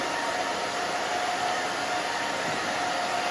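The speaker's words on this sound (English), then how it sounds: "I'm moving the fingers and the blow dryer at the same time" A blow dryer roars steadily and close, a constant whooshing hiss with no pauses or voices.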